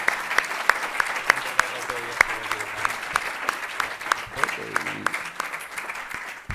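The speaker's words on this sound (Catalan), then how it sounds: "un aplaudiment perquè això no es veu cada dia" Audience applause at a book presentation event, a steady wash of clapping filling the room for several seconds with scattered sharper claps, fairly close and loud.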